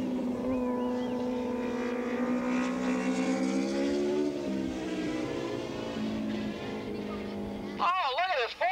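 Racing motorcycles in a four-rider pack at Willow Springs International Raceway, 1980s open and 750cc Super Street classes, engines whining loudly together past the start-finish line, pitches sliding as they go by, under commentary.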